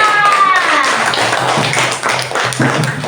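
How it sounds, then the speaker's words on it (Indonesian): A classroom of children in Indonesia claps hands together in a dense, loud burst of applause with a few brief voices mixed in. "tepuk tangan untuk Afisa"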